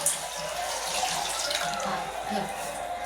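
A household tap runs into a sink with a steady, even rush of water, while faint voices sound in the background.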